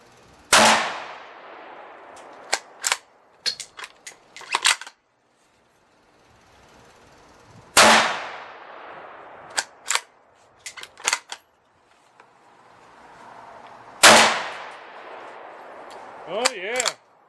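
A Ruger American rifle in 7.62x39 fires at steel targets outdoors. Three sharp, loud shots are spaced several seconds apart, and each is followed by faint metallic pings and clangs from the steel. A voice is briefly heard near the end.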